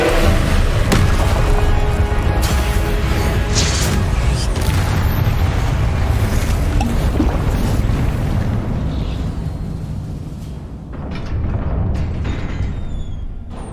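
Continuous heavy booming and eruptive blasts from a spell duel in Hogwarts Legacy, a wizarding video game, with an Incendio fire spell among rapid-fire spells, loud and dense throughout and easing slightly near the end.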